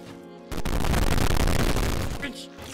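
Rapid enemy gunfire in Minecraft: a dense, loud burst of shots running about two seconds, booming and continuous, set against game background sound.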